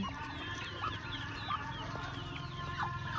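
Muscovy ducks on a small farm give soft repeated hisses, quiet calls and low murmurs, close by and overlapping, with no human voices.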